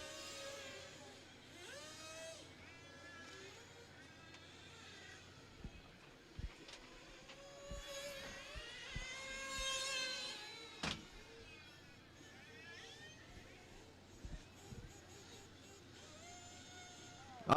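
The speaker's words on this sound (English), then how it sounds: "The car sounds like a dirt bike now." A race car with exhaust trouble at a racing event in Oakland Mills, Pennsylvania, buzzes and whines like a dirt bike, its pitch rising and falling, heard at a distance among other track noise over about eighteen seconds.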